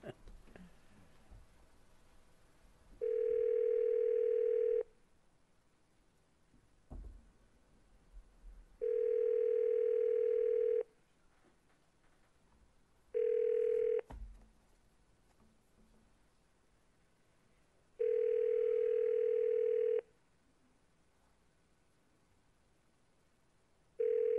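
Steady telephone dial tone sounding in four separate bursts of a few seconds each, with short gaps between, loud and clear over a quiet room after a wrong number is dialed; a voice briefly speaks in between.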